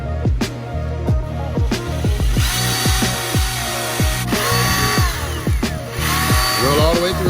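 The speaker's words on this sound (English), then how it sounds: "Drill all the way through." A power drill whines close by, its motor pitch sweeping up and down repeatedly in short bursts as it bores through a plastic dipstick.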